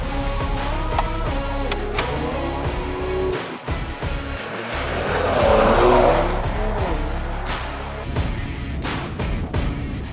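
A 2023 Mercedes-AMG E53 4MATIC+ Cabriolet on the move: continuous engine and road noise that swells to a louder, fuller peak midway before settling back, with no voices over it.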